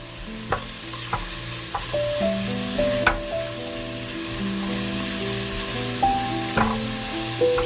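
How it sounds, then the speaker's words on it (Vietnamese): Shallots and garlic sizzle steadily in hot oil, with a few sharp clinks of a spoon or spatula against the pan. "Cho hành tỏi còn lại vào khoảng 1 muỗng canh rưỡi. Phi cho hành tỏi nó thơm lên."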